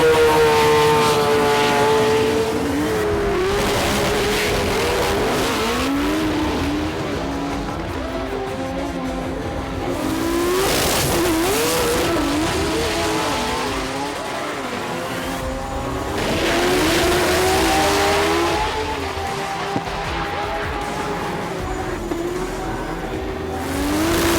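Race cars lapping a track at the Melbourne Jamboree, engines roaring and pitch rising and falling as cars pass, with some tyre squeal, loud and continuous.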